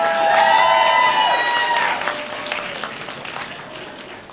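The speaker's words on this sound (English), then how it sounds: "Give Jenna a big round of applause." An audience at a gaming expo costume contest applauds a contestant, a broad crowd clapping that swells early and gradually thins, with a bright tonal sound fading out over the start.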